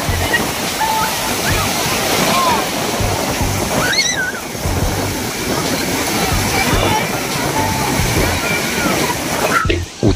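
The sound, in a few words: rough sea waves at Bakkhali beach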